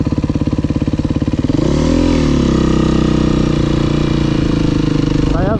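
A motorcycle riding a wheelie: a close, loud engine pulsing at idle, then revving up hard into a sustained roar with a rising pitch sweep, with a voice briefly audible near the end.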